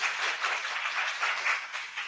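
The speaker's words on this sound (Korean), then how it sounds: "자, 우리 박수로." Congregation applauding during a Sunday church service, a steady wash of clapping from many hands, moderately distant and even in level with no speech over it.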